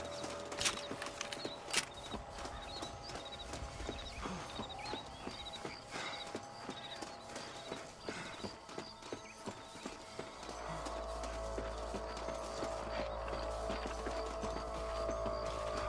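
Horse hooves clip-clop at a walking pace in the video game Red Dead Redemption, fairly close, with a low rumble joining in toward the end.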